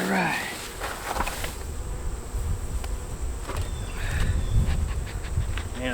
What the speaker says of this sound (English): Man, the bees are so calm.